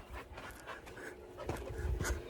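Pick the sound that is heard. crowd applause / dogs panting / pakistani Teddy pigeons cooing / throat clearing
dogs panting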